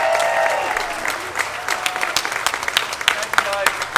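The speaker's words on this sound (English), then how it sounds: "I want to just give a special round of applause to our present and our future" A rally crowd applauds Catholic school students, steady overlapping clapping at moderate level with scattered louder claps and a few whoops, a voice briefly audible over it at the start.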